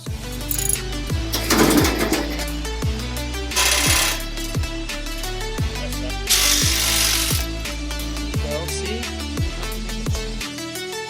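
A tool works loose the 10 millimeter bolts on the skid plate flap of a Ford Raptor during an oil change, making a loud, fast mechanical clatter that repeats in steady bursts, close up with no talking.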